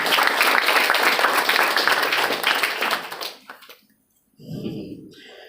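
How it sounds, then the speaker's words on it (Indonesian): A large audience at a motivational campus event at Politeknik LP3I Cimone breaks into dense, steady applause that fades out after about three seconds. A voice then begins speaking. "Tepuk tangan untuk Anda semua hari ini."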